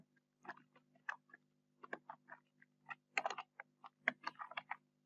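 Keys clatter on a computer keyboard during a web design session, a quiet, irregular run of close taps and short bursts over several seconds, with no talking.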